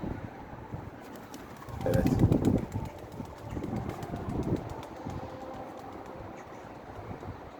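Young Ekesi tumbler pigeon cooing close by in low, soft bursts, loudest early and then tapering into quieter murmurs over a faint background, with a voice speaking briefly nearby.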